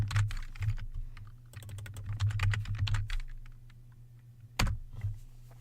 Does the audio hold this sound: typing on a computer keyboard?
yes